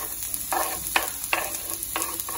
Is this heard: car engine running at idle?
no